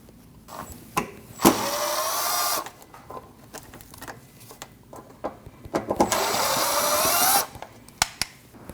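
Power drill spinning out the inner fender liner screws on a 2012-2021 Nissan NV2500, with two sustained whirring bursts of a couple of seconds each, separated by sharp clicks and handling knocks, close and loud with no talking.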